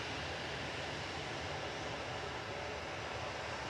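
A TUI airliner departing Manchester Airport, heard as a steady, faint, distant broadband roar of jet engines with no other sounds.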